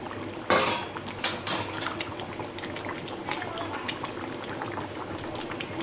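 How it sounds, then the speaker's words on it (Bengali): Pointed gourds dropped into a pot of simmering fish curry: a couple of sharp clatters as they go in, then a steady bubbling, liquid simmer with light clinks of a utensil against the pot. "এবার দিয়ে দিই পটলগুলো।"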